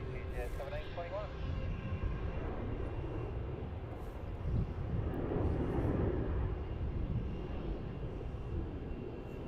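A Boeing 777 at Melbourne Airport gives off a broad, steady jet roar at a distance that swells midway, with radio chatter faint at the start.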